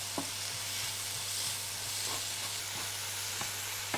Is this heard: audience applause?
no